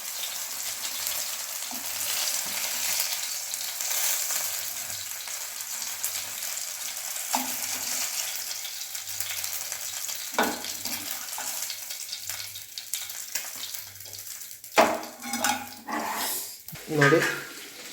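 Fish frying in oil Kundapur Udupi style, a constant crackling sizzle with spoon scrapes and clatter, plus a few louder bursts toward the end, with voices faintly present.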